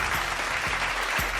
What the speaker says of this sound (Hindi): आपकी जोरदार तालियां होनी चाहिए,